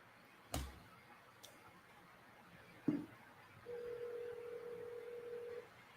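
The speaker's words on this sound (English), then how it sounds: "I'll call you on the phone and see." Phone dialing sounds, faint: a couple of soft clicks and then one steady tone holding for about two seconds.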